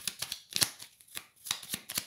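Tarot cards being shuffled by hand in a run of soft, papery riffling bursts, a few quick rustles spaced through two seconds, fairly close and moderately loud with no voices.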